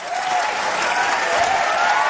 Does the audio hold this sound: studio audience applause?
yes